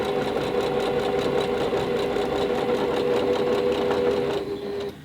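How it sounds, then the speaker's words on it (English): A sewing machine fitted with a quarter-inch presser foot runs a steady, fast stitching whir while sewing jelly-roll quilt fabric strips, continuous and close, then slowing and stopping at the end. "So we're just going to fold it over and line them up and just stitch 1/4 inch."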